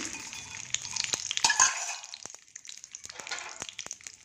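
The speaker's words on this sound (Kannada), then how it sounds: "ಇವಾಗ ಕಡಲೆಕಾಯಿ ಬೀಜ ಹಾಕ್ತಾಯಿದ್ದೀನಿ" Peanuts hit hot oil in a pan for a tempering of fenugreek, curry leaves and dried chillies, a soft sizzle that swells briefly, with scattered light clinks and scrapes nearby.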